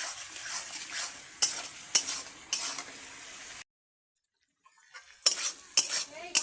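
A spatula stirs and scrapes spice masala sizzling in a pan, making loud metallic clinks over the frying hiss. The sound drops out briefly, then the stirring resumes.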